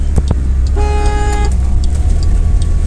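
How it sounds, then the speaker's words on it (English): The broken single horn of a 2007 Pontiac Solstice toots thin and weak for under a second over a steady engine rumble and outdoor noise. "You hear how terrible that horn is?"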